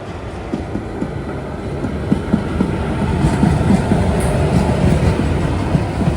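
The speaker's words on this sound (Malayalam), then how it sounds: "ഇവിടേക്ക് മറ്റൊരു ട്രെയിൻ വരുന്നത് കാണാം" KSR Bengaluru-Kannur Express arriving at Kanhangad station, a steady rumble of rail wagons with rhythmic clickety-clack of wheels over joints, building slightly louder as it rolls in, no voices.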